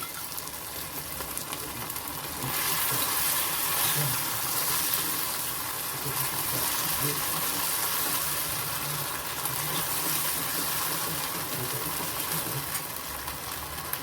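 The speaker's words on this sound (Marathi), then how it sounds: "एक चमचा कॉर्नफ्लॉवर घेतलेला आहे आणि ते त्याच्यामध्ये पाणी घातलेलं आहे आणि हे आपण मिक्स करून घ्यायचं आहे आणि याच्यात हळूहळू ओतायचं आहे" Cornflour-and-water slurry poured slowly into sizzling Manchurian sauce for gobi (cauliflower) Manchurian, with a steady wash of bubbling and hissing running continuously throughout.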